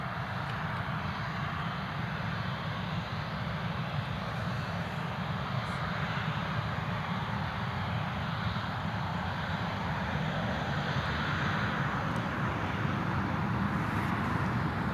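Jet2 airliner engines at Newcastle Airport as it taxis toward the far end of the runway, a steady, broad roar that holds at a constant level throughout with no voices.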